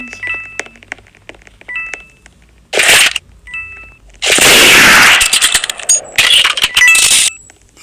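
Gunshots in the Roblox game Murder Mystery 2, a few loud, short blasts separated by pauses, with quieter game beeps and tones between them.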